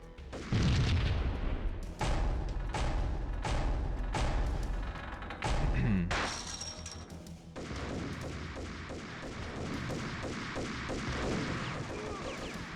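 Gunfire in the PC shooter Max Payne, played on an LGA775 Windows Me computer: a string of heavy, booming shots and thuds in close succession, loud and punchy, followed by denser in-game action noise.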